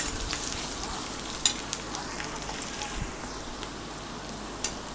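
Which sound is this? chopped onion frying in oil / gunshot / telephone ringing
chopped onion frying in oil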